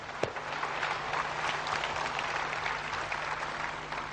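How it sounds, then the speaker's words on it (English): Audience applause at a customer service talk, a steady dense wash of clapping that holds at even loudness throughout with no voices over it. "let's give her a clap."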